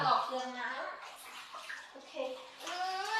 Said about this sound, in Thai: โอ้พากันเล่นน้ำสะใจเลยนะลูก